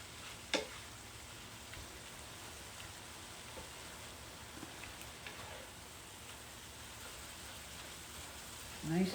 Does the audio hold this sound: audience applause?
no